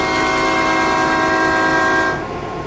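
An F7 locomotive horn in a Roblox train game blares loud and sustained with steady layered tones for about two seconds, then cuts off, leaving a faint fading tail.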